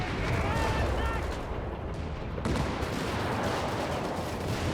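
Dense, continuous battle noise from a Company of Heroes 3 match, with ground bombardment, grenade blasts and small-arms fire blending into a steady loud rumble and crackle, without distinct pauses.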